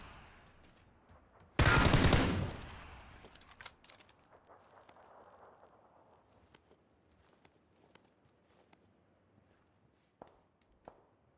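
Gunfire in PUBG: one loud, dense burst of shots lasting about two seconds, fading into a tail, followed by scattered faint clicks and light footsteps-like taps.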